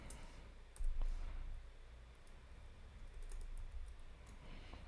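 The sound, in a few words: typing a command on a computer keyboard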